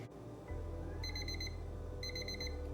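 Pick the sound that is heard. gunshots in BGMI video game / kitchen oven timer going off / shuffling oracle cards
kitchen oven timer going off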